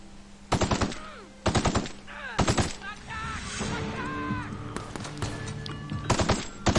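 Bursts of automatic gunfire in The Outer Worlds video game: four or five sharp, loud rapid volleys spaced about a second apart, with game effects and ringing tones sounding between the bursts.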